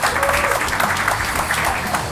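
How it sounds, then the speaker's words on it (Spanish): Audience clapping at a metal bar show, a dense burst of applause from a small crowd that carries through the whole moment, with a few voices mixed into the clapping. "¡Otro aplauso! Un aplauso grande,"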